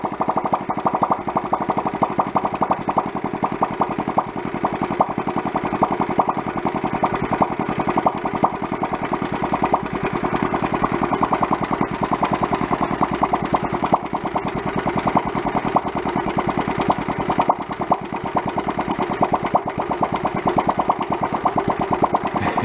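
A worn-out Honda Trail 70 engine runs steadily at very low RPM near stalling, giving a continuous, rough, close chugging rattle that stays even throughout, with no voices.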